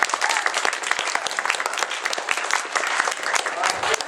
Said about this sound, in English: Let's give her a round of applause for Alina.